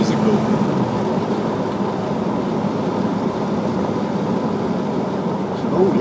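Peterbilt 389 truck engine droning steadily while driving, a continuous low rumble with road and cab noise, loud and unbroken throughout.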